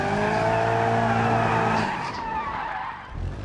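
Cars skid and spin out in the BeamNG driving game, with a sustained loud tire squeal and engine drone that cuts off and fades into quieter rumbling, no talk.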